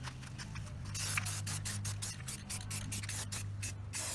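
Aerosol spray paint hissing in bursts onto a rusty metal surface outdoors, broad steady spraying with short pauses and rattly clicks, close and fairly loud, over a low steady hum, no talking.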